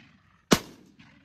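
A single sharp shotgun blast at an evening bird shoot, loud and close, with a short fading tail and brief faint activity afterward.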